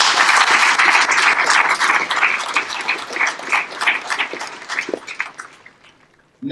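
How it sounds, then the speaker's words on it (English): Audience applause at a US Air Force basic military training graduation ceremony, a loud sustained crowd of clapping that gradually thins and fades out toward the end. "How about giving them a round of applause as well?"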